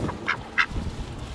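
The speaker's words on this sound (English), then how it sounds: "So these are our ducks." A pet duck gives two short, nasal quacks, moderately near, over a steady low outdoor rumble.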